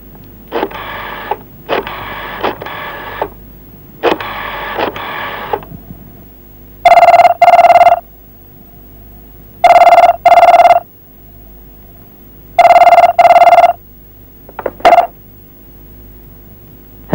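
A telephone rings in repeated bursts, first a rattling electric bell in three clusters and then three loud electronic trills with a short final chirp, alone with no talk.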